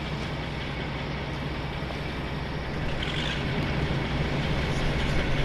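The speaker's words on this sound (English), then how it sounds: "Now I'm going to start engine B." The diesel engine of a BR Class 52 diesel-hydraulic locomotive in Train Sim World drones loudly and steadily, its low rumble thickening partway through as a second engine starts up, with no voices.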